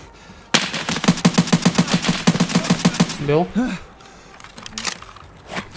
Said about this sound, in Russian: справа какие-то выстрелы были у нас очень подозрительные.